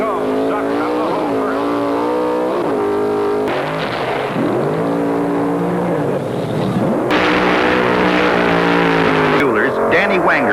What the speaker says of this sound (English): Now here they come, the Pro Stock finalists. There they go,